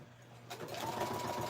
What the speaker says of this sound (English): Hope I don't forget to turn my sewing machine off when I leave.